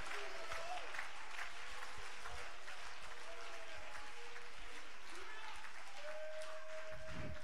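A church congregation applauds together in a sustained wash of clapping, with voices mixed in underneath.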